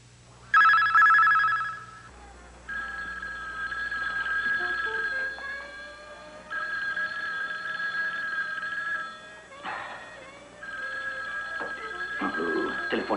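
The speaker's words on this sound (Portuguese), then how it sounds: "Telefone, telefone. Onde está o telefone?" A telephone bell rings in a 1990 Brazilian TV broadcast, a loud bright jangling ring in long bursts separated by short pauses, with softer sliding tones and rustling between rings.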